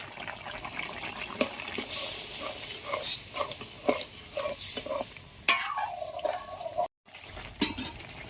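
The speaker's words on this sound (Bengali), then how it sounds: "জল ফুটে গেছে, মাছগুলো দিয়ে দিচ্ছি" Khalshe fish and aubergine curry with ground pepper and green chilli bubbles in boiling water as a spoon stirs and scrapes the pot in irregular close bursts, with a brief silent gap.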